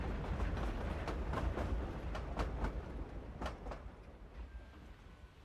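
A train rumbles along in Hogwarts Legacy, a steady low rolling roar with faint rhythmic clacks, fading slightly toward the end, no talk over it.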